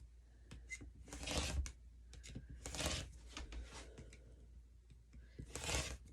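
Rotary cutter slicing through sewn fabric strip sets for quilting, a series of close, rasping cuts in short bursts with pauses between strokes.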